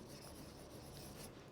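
A marker writes on a board in a maths lesson on circles, a quiet continuous rubbing scratch for over a second ending in a sharp tap, with no talk.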